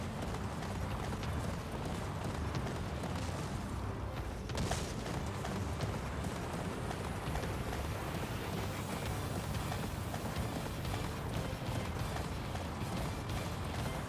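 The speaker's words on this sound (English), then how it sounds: "Goddamn horse, move faster." Horse hooves gallop in a steady, unbroken run through the video game Attack on Titan 2, with a constant rushing wind-like roar close up and no talk.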